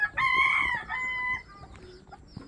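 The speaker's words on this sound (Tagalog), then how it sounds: "Ang dami ng manok oh." A rooster crows once, close and loud, its call breaking into a shorter tail, followed by faint clucking in the background in the Philippines.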